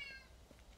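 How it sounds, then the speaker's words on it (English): Cat meowing faintly in the background, one short tonal meow at the start, distant and quiet under a low room hum. "I'm sorry if you guys hear that cat in the background,"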